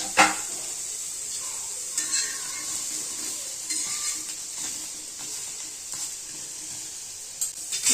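Quartered tomato pieces sizzling on a hot pan for chutney, a steady bright fry hiss with occasional stirring and light utensil clinks, close and continuous with no talk.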